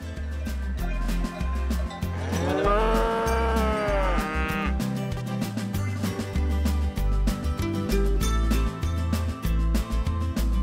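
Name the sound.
Massanaise cattle mooing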